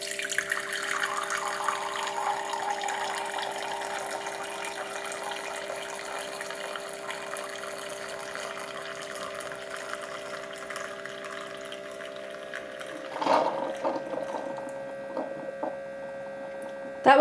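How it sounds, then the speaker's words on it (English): A steady stream of water pours from a Keurig K15 single-serve coffee maker over a constant electric hum, with a brief gurgling burst near the end. "it's going to start dispensing the water."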